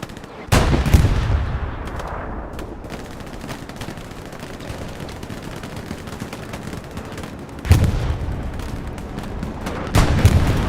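Heavy bombing and machine-gun fire in Hell Let Loose on Omaha Beach, three big booming blasts spaced apart over a constant crackle of distant automatic fire.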